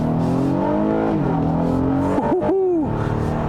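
A 2021 Honda Odyssey's 3.5-liter naturally aspirated V6 revs up and down in a steady, throaty drone, with pitch sweeping higher then dropping, close and loud.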